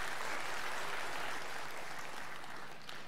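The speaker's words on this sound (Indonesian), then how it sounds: "Tepuk tangan buat sahabat-sahabat semuanya." Steady applause from an audience at a motivational show in a Jakarta theater, a dense even wash of clapping that holds at a constant level for a few seconds.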